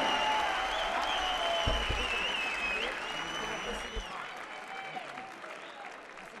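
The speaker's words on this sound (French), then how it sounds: "on peut les applaudir s'il vous plaît" Spectators applauding at a boxing bout between two female fighters, crowd clapping and cheering under ringing, whistle-like tones and venue noise, gradually easing off.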